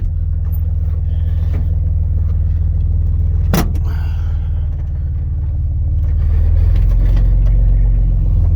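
A vehicle towing a trailer drives slowly around a property with a steady, loud low engine rumble, one sharp clank partway through and a slight swell in the engine toward the end.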